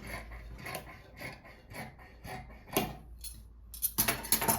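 Scissors cut fabric for a blouse sleeve with a series of close, crisp snips and rustles, spaced irregularly, growing quicker and louder toward the end.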